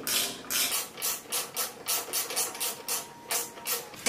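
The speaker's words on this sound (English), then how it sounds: "Now take your Allen wrench, stick it in the head of the bolt. And tighten this baby up." An Allen wrench tightening a bolt on a go-kart reflector and mirror mount, giving a close, rhythmic series of raspy metallic ratcheting strokes with no voices.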